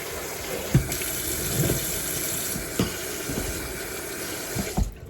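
Tap water runs steadily into a sink while canned food is drained and rinsed, a continuous close rush broken by a few soft knocks and clunks of the container.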